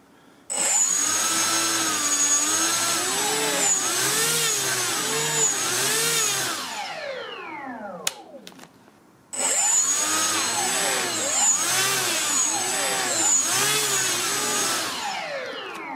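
Two small RC aircraft electric motors under a FlySky i6 differential thrust mix, whining loudly and close with pitch rising and falling as they spool differently, cutting out briefly midway before starting again.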